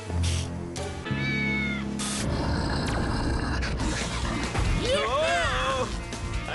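Animated cartoon cat meows in a mix with other voices and effects, a rising, wavering cry heard near the end amid a busy, loud cartoon soundtrack.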